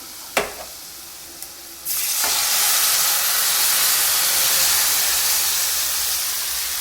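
Tomatoes hit a hot pan of onions, green chillies and ginger-garlic paste. After a couple of sharp knocks, a loud, steady sizzle and hiss swells up and holds close, with no talking.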